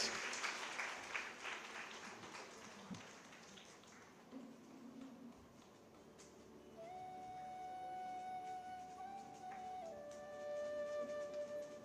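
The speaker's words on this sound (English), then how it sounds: "Shall we have some claps around?" An audience claps at a book launch event, a burst of crowd applause that thins out after a few seconds before steady whistle-like tones take over.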